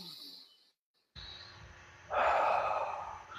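Slow, deep breathing close to the mic: a soft exhale, a brief silence, then a long, strong inhale that swells and holds, with no talking.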